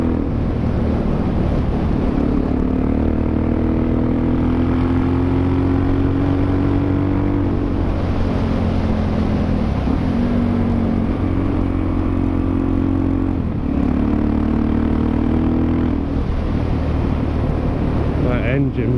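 A Suzuki DRZ 400SM motorcycle engine drones steadily while riding, a loud, continuous single-cylinder hum that rises and dips with throttle and gear changes, alongside wind noise.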